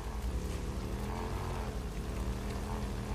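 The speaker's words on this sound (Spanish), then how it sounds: "Me encanta cómo suena la moto." Motorcycle engine in the video game Days Gone, a steady low droning rumble that holds evenly for the whole stretch with no break and no voices over it.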